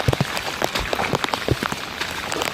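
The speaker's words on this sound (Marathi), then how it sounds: "सकाळपासून तीन चार तास झाले पाऊस चालू आहे" Heavy monsoon rain falls steadily outdoors on a trek toward the Lingyaghat waterfall, a dense close patter with scattered louder drops and splashes.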